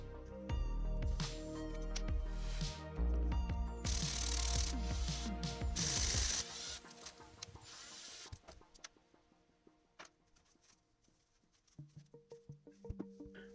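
Ratchet clicking and clattering mechanical work while bolts come off a Lotus Esprit pump housing, with dense bursts of metallic ticks up front that thin out into sparser, quieter clicks and taps toward the end.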